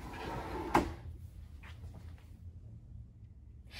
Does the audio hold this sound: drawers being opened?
yes